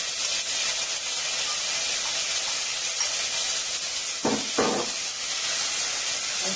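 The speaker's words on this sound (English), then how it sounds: "So I'm going to put the saltfish in now." Saltfish fries in hot oil with a steady, loud sizzling hiss that fills the whole stretch, broken near the end by two brief thumps, and no voices.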